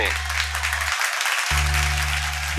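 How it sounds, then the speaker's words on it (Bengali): Applause at a Bengali TV show event, a steady wash of clapping over a sustained low musical drone that cuts out briefly and returns. "একটা জোরে হাততালি হয়ে যাক সূর্য কমল বাবুর জন্য"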